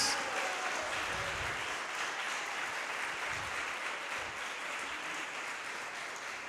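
A crowd claps steadily, a dense wash of applause that holds at an even level throughout.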